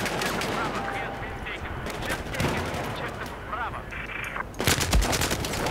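Gunfire in the shooter video game Battlefield 4 as loud, rapid bursts of automatic weapons fire and heavier blasts crackle through the battle, with a voice speaking briefly over the shooting.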